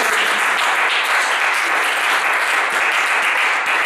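A church congregation applauds at a seminary gathering, dense sustained clapping from many hands filling the room steadily throughout, loud and close with no pause.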